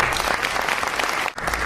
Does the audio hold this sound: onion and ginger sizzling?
no